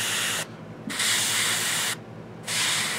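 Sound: airbrush spraying paint on a miniature

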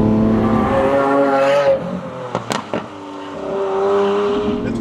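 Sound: Lamborghini Aventador S Roadster engine sound

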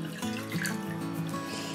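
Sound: water poured for making natural facial gel soap

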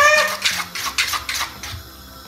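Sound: fork mixing sponge cake batter

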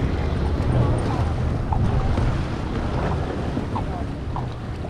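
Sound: hourly tour boat on the water

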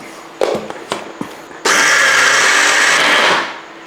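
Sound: mixer grinder grinding soaked raw rice

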